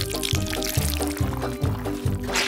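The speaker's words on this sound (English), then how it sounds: "First, pour some black ink." Black ink pours steadily from a container, a continuous liquid splash heard under steady background music.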